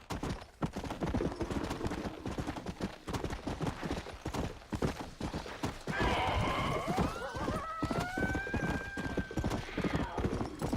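A horse gallops in the video game Red Dead Redemption: Undead Nightmare, with rapid rhythmic hoof clops throughout, then a loud neigh partway through rising over the steady hoofbeats.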